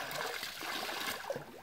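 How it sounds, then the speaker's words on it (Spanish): Water being poured over a person's head outdoors in the countryside, a continuous trickling, splashing stream at moderate level with no talking. "Dale a echar agua en la cabeza."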